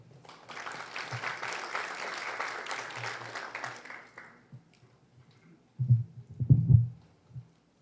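An audience at an evening legal lecture on the juvenile criminal code applauds a presenter, a full burst of clapping that fades out after about four seconds, followed by a few low thumps near the microphone.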